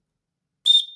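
A survival whistle built into a Leatherman Signal multitool gives one short, piercing blast that breaks sharply out of silence and then trails off.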